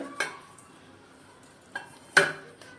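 Three sharp metallic clanks of a pressure cooker's metal container being handled and greased with oil, spaced apart with quiet between them; no voices.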